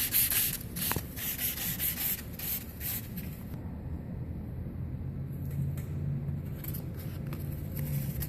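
Excess glue being sanded by hand off a billiard cue tip, a close, steady rasping rub of abrasive strokes that shifts in tone partway through, with no talk.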